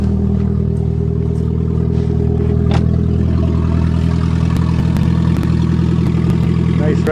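Nissan Stanza engine idling steadily just after a cold start, a loud close mechanical drone with light clatter and a few higher ticks, continuous throughout.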